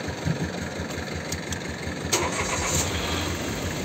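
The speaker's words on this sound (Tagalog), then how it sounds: "Subukan mo muna i-start" A Mitsubishi Mirage G4 with a broken clutch cable is being started: a short cranking and catching engine sound, moderately loud and nearby, with a steady engine-like rumble throughout.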